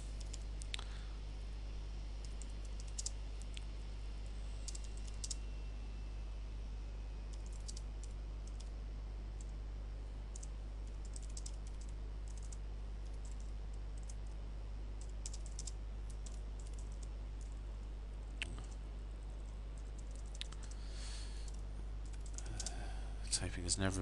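Keys clatter in steady, fast bursts of typing on a computer keyboard, close up, with a constant low hum underneath and brief pauses between runs.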